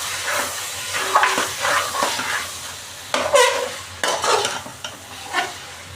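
Onions and mutton frying in a pot with ghee over medium heat, being stirred in bursts of scraping and clattering over a continuous sizzle, fairly loud and close.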